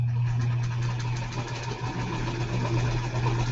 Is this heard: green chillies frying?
no